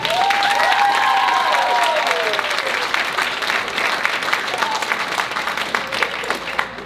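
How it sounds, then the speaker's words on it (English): An audience at a motivational talk breaks into loud, dense applause with some whoops and cheers near the start, continuing steadily before slowly thinning. "Y'all clap it up for yourself one more time."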